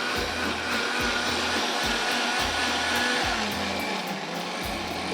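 A kitchen blender grinds tomato and green chili into chutney, a loud, steady motor whir with rhythmic low thumps as the blades churn the mix, running continuously throughout.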